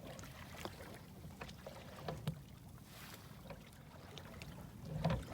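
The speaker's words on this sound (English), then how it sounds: "We're sculling across the harbor here, no wind." A sailboat is sculled across a calm harbor with no wind, giving a faint, soft wash of water and hull with a few gentle creaks and knocks at an irregular pace.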